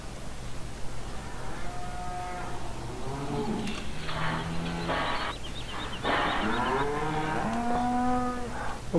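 Cattle moo again and again inside a cow barn in a farming video game, with long, drawn-out calls that overlap and rise and fall against a constant low background hum, and no voices.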